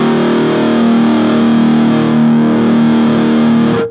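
Orange Crush 20 solid state combo amp pushing heavy distorted guitar into a new gain stage, a loud sustained chord ringing steadily for about four seconds before cutting off.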